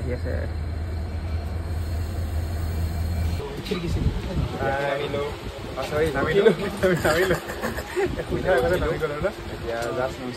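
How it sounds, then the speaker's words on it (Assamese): A train rumbles in at a station, a low hum giving way to rolling rail noise and squeals, with people talking over it. "ট্ৰেইন আহিছে চাওক"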